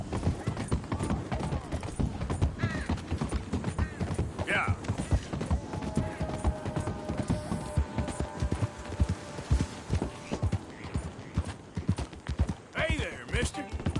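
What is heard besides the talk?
horse hooves clip-clopping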